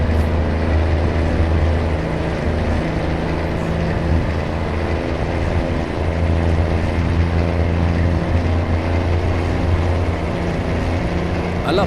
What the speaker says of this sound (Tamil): நல்லா பவர்ஃபுல் இன்ஜின்